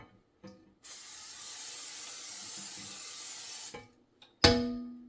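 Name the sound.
cooking spray sprayed on baking dish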